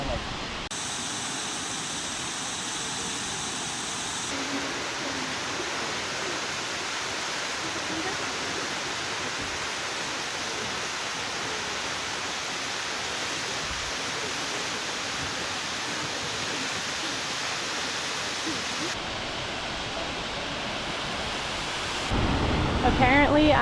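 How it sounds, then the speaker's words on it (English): Naches Falls in Mount Rainier National Park pours in a steady, dense roar of rushing water, loud and unbroken throughout with no talk. "Checking out the view of Naches Falls from the end of the trail."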